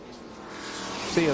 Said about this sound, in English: as the cars make their way into turn 7